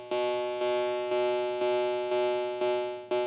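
A synthesizer note struck repeatedly, seven times in a steady rhythm, each starting abruptly at full loudness and fading slightly before the next hit.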